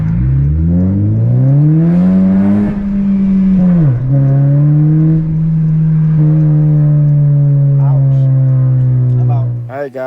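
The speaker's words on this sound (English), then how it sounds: "I mean that's just loud. It's way louder than the exhaust with just the with the deleted muffler." A 9th-generation Honda Civic Si with a full 3-inch exhaust and downpipe revs loudly and up close, the engine note climbing, dropping sharply, then holding a steady droning tone before cutting off.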